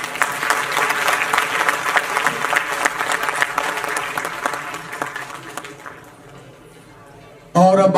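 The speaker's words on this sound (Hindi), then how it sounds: "दोस्तों जोरदार तालियां।" A crowd at a live comedy event claps energetically in a thick, continuous round that fades toward the end, followed abruptly by a loud voice speaking close to the microphone.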